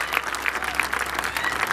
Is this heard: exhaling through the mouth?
no